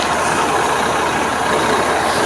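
A paddy threshing machine runs at a rice harvest, giving a loud, continuous mechanical roar with a faint rattling texture that stays constant and close throughout, with no voices.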